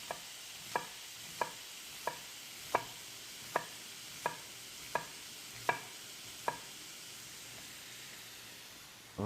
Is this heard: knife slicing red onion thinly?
yes